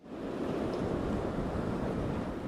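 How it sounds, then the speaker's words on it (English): Storm waves and wind from Tropical Storm Barry on Louisiana's Gulf Coast near New Orleans make a steady, dense roar of surf and gusting air, continuous and fairly loud with no voices. "Waves, wind, and rain began hitting New Orleans and Louisiana's Gulf Coast today as Barry neared hurricane strength"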